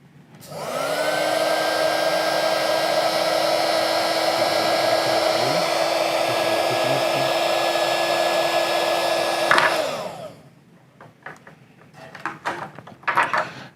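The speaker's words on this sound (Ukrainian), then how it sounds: "Та включити наш фен для термоусадки." A heat gun whirs loudly and steadily for about ten seconds shrinking heat-shrink tubing over a soldered FPV drone wire, then clicks off and winds down, followed by faint handling clicks and rustles.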